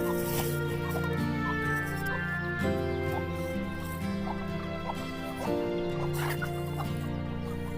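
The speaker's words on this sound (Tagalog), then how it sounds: "Kailangan papaun itong mga manok." Chickens clucking in a small backyard flock, including a tiny favourite breed, with steady overlapping clucks and calls running throughout at moderate distance.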